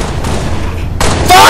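Rapid pistol gunfire in the Halo video game, a burst of sharp shots rising over a continuous noisy game soundscape, loud and close.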